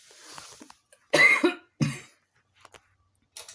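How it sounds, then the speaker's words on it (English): Several harsh coughs from one person, close and loud, in two main bursts followed by a few faint throat sounds and a quieter cough at the end. "I apologize for all this coughing."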